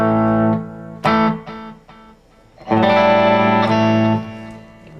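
A Stratocaster electric guitar through the single-coil back pickup with a little delay plays sustained bright chords and notes, loud and close, with a short gap and ringing echo tails between phrases.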